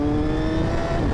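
A 2024 Honda Fireblade sport motorcycle engine blips with the quickshifter, a steady loud harmonic engine note with no talk over it.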